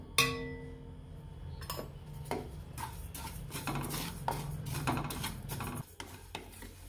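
A cup of cumin seeds roasted and stirred in a pan, giving repeated scraping and clinking strokes of a utensil against the pan, fairly close and quiet, with no talk.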